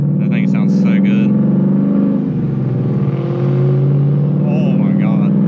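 A 2019 Ford Mustang GT V8 drives by loudly at full throttle, a steady droning engine roar that swells and holds, with people talking over it at the start and end.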